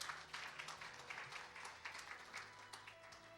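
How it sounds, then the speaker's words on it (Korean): Audience at a Korean open-source software awards ceremony claps in welcome, a modest, loose patter of hands in a quiet hall with faint background hum, fairly soft and uneven. "여러분 따뜻한 박수로 환영해 주시면 감사하겠습니다."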